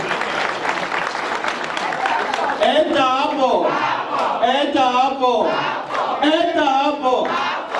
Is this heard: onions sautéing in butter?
no